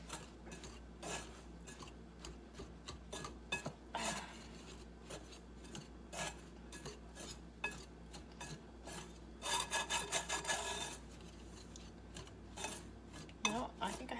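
A spoon scrapes and rasps around a bowl as a homemade holiday gift mixture gets stirred, a run of close, uneven strokes with quicker bursts partway through.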